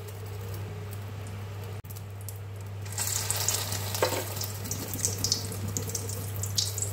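Egg-dipped pieces drop one by one into hot oil and fry with a steady, moderately loud sizzle that swells after a brief quiet start, with no talking.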